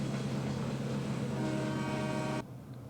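Long freight train on the Wallace Branch rumbling steadily with a sustained low horn-like drone, loud and close, cutting off abruptly near the end into quieter background hum.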